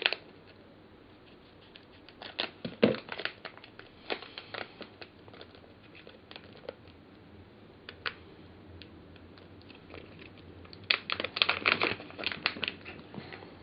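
Packaging of a UBU Australia duo-fibre makeup brush being opened by hand, with irregular crinkles, clicks and taps of plastic, louder bursts near the start and end, close and without speech.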